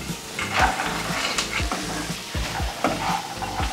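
Onions and greens stems sauté in a pan with a loud, steady sizzle, broken by repeated rhythmic scraping strokes of a spatula stirring the pan, close and clear with no talk.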